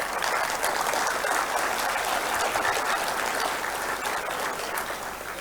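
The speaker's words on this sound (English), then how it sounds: "big round of applause for those who are present even now" Steady, dense applause from a conference audience at a high-level session fills the whole stretch at an even level, many hands clapping together before tapering slightly at the end.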